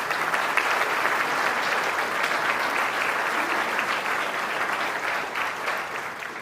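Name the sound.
applause for the city council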